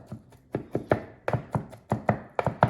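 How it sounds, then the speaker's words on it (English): Sfogliatelle dough chopped into tiny pieces on a board, a series of about a dozen sharp, close knife strikes in uneven rhythm, some coming in quick pairs. "we're just going to chop this up into tiny little pieces."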